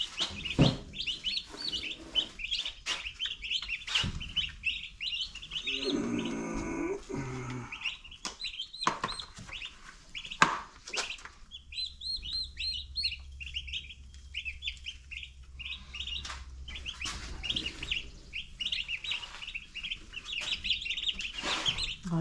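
Chicks chirp continuously in high, rapid peeps, several birds close together, with a few clucks and occasional bumps and rustles around them.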